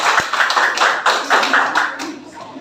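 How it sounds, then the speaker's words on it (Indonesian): Clapping by a group in a classroom, about a dozen quick rhythmic claps in bursts, fairly close, with voices in the background. "Tepuk tangan untuk kita semua."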